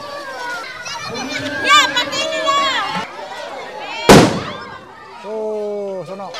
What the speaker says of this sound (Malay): Alangkah mereka sedang bergembira main bunga api.